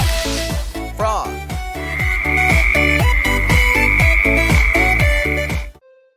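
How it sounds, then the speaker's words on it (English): Frog croaking in a rhythmic, regular pattern over bright, loud music throughout, with a sustained tone running through the middle. "Frog."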